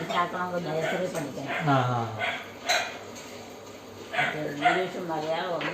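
A dog barks and yips in short bursts near a home, mixed in with people talking over it throughout.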